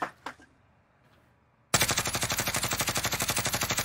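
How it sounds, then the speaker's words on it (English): Rapid automatic gunfire from Call of Duty: Warzone, a long, loud, steady burst of evenly spaced shots that starts abruptly after a couple of faint earlier pops and near silence. "I was just shooting at just to piss him off"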